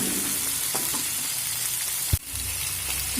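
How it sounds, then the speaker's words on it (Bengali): A spiced potato mixture for aloo bombs fries gently over a low flame, a steady close hiss with a single sharp knock near the end. "আবারও আমি লো ফ্লেম করে এক মিনিট ভেজে নেব"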